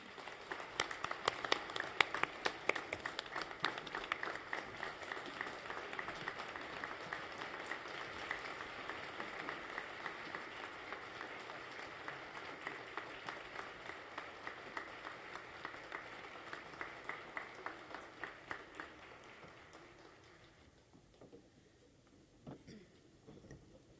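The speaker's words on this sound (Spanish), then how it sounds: "Una familia que merece, aunque sea por una vez, un fuerte aplauso de pie." Standing applause from an audience at a university student recognition ceremony on Student Day, steady dense clapping for about twenty seconds before fading out near the end.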